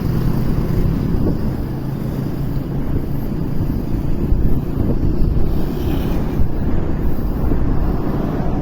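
Steady wind roars and buffets the microphone throughout, a dense low rumble with no pauses and no voices.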